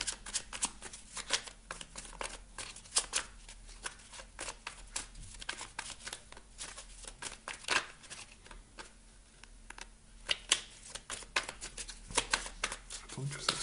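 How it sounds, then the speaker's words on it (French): Oracle cards being shuffled by hand, a steady run of quick papery riffles and flicks, close and fairly soft, continuing throughout while someone speaks in French. "Je vais vous prendre une carte du petit oracle de la mission de vie."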